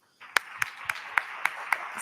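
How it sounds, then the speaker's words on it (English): An audience at a charitable-giving event in Columbus claps sparsely: about six crisp, evenly spaced claps over a quiet room, with no sustained applause. "So give yourselves a round of applause."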